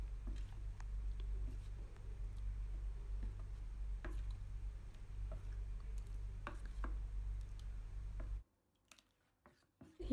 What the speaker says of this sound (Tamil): இப்போது எல்லாத்தையும் நல்லா கலந்துக்குங்க.